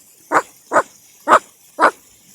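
A person imitates a dog barking in their natural voice, four evenly spaced, mid-pitched woofs, close and clear with short silences between.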